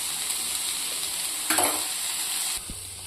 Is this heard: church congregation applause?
no